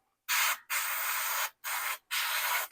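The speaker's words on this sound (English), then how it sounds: "Flip it over to the back, come in really close with my airbrush," Four hissing bursts from an airbrush spraying color onto sugar flowers and leaves, held close to the edges, each a steady broad spray with a brief pause between, near and loud, no talking.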